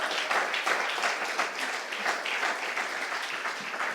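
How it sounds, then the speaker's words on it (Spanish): Steady applause from a church congregation during a Spanish-language sermon, many hands clapping at moderate volume for a few seconds with no voices over it. "Denle un aplauso al Señor."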